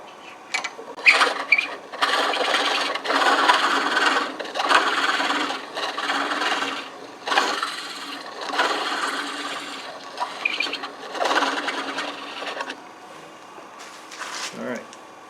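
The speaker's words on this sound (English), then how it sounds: "When I turn this spindle gouge in, just on the side, it catches that side and it makes a clean cut on the inside" A spindle gouge cuts the inside of a wooden hollow-form bowl spinning on a lathe, giving repeated rough scraping and hissing bursts of shavings that rise and fall over about fifteen seconds.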